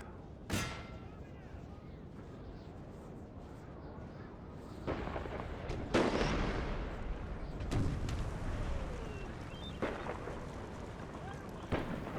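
An ordnance rifle firing in an American Civil War battle at Seven Pines, heavy cannon booms scattered at intervals across a distant, rumbling battlefield, with someone talking over it.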